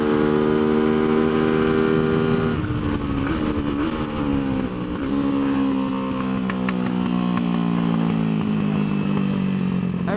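Tianda TDR300 motorcycle racing in a practice session at Mission Raceway, its engine droning loud and steady close by, revs climbing and dropping through gear changes across the whole stretch.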